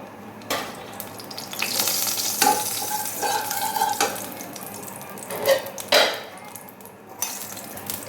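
Nigella seeds and a dried red chilli hit hot oil in a pan, a close, continuous sizzle broken by bursts of crackling and stirring scrapes, with no talk.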